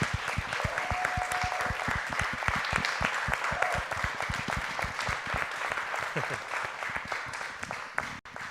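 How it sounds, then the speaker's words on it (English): Indoor audience at an arboretum podcast launch event applauding guests, a dense sustained round of clapping that gradually thins out near the end. "Big round of applause for them."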